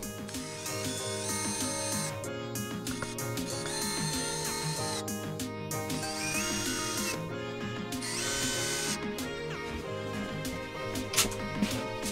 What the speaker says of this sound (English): I'm going to sort of drill out a channel here for the 240 volt cable to come through